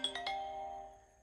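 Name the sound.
phone ringing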